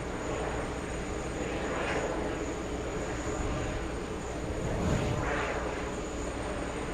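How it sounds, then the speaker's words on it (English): A Lufthansa airliner takes off at JFK airport with a continuous, broad jet roar that holds steady and swells slightly, heard from a distance and alone. "Lufthansa, takeoff."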